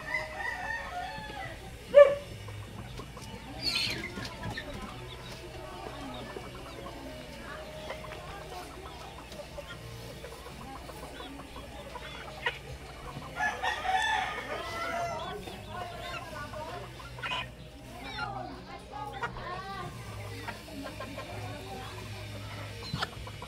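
Chickens cluck and a rooster crows around a backyard yard where young breeder fowl are raised, with scattered bird calls across a steady farmyard background and a voice speaking at times.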